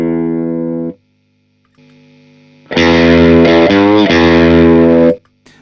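An electric guitar rings out clean, pauses, then returns loud through a distortion pedal, sustained chords buzzing and wavering with added noise before stopping.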